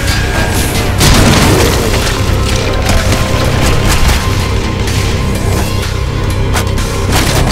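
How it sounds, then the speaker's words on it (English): A frag grenade goes off in the zombie shooter SAS Zombie Assault 4, a loud booming blast around the one-second mark followed by a sustained rumbling, crackling wash of game noise with no talking. "Oh, I forgot I have frag grenades."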